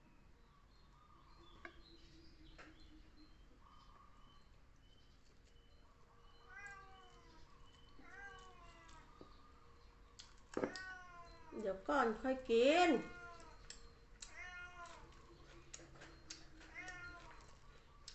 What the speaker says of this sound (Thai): แมว